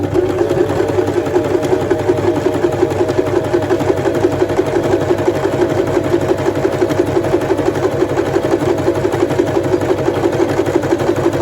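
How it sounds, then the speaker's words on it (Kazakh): A sewing machine runs continuously at close range, its rapid even needle clatter and motor hum stitching a fabric panama hat. "Енді қазір мына жерін тігемін."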